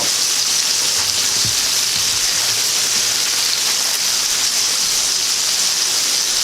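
Hamburger patties sizzle in a pan or on a grill with a steady, loud, hissing crackle that continues evenly without pause, close up and with no talking over it.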